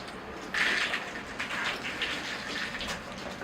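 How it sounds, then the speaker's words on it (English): Water is rinsed over a yucca bonsai forest, a steady splashing hiss that starts abruptly and runs on as a continuous close spray with small fluctuations. "I think I'll do a little rinsing now"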